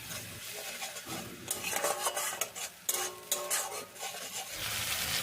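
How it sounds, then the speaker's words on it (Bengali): Boiled onion paste frying in oil for a village-style Bengali prawn dish, with a soft sizzle under repeated sharp scrapes and clinks of a spoon stirring against the pan, close and irregular. "এবার পেঁয়াজটা তেলের মধ্যে ভালো করে ভেজে নেব"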